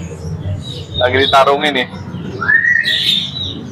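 A long-tailed white-rumped shama sings at a bird kiosk, giving bright rising whistles and chirps close by while someone talks.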